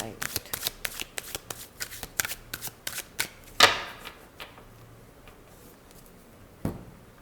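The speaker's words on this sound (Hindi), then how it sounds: "तो अब और कार्ड्स निकाल लेते हैं और देखते हैं क्या है लव लाइफ में।" Tarot cards being shuffled, a quick run of crisp riffling flicks followed by a louder burst and then a single later snap, close and clear.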